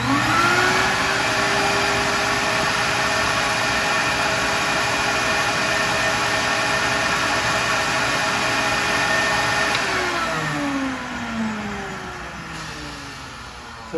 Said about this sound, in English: I'm gonna suck the fluid off now, and then we'll do the rinse